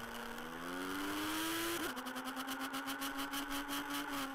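Small RC car motor running with a steady mid-pitched whine that rises, dips briefly, then settles into a pulsing buzz, close and continuous, no talk.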